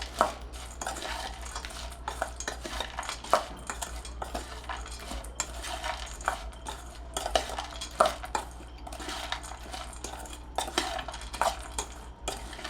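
Close-up clinking and scraping of a spoon stirring matki bhel, a sprouted moth bean snack, in a bowl, with steady irregular taps and rattles continuing throughout and no talk.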